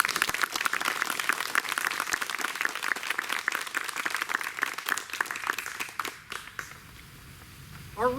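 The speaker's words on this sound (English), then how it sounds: "Let's give them another big round of applause." Audience applause after a Washington Tattoo performance at a formal ceremony, dense sustained clapping from a crowd that thins and fades out near the end.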